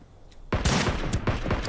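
Gunfire rings out in the battle royale game Ring of Elysium: after a quiet half second, a rapid volley of overlapping shots bursts in and keeps cracking in quick succession.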